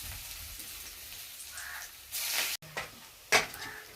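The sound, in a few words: frying fritters (bora) in hot oil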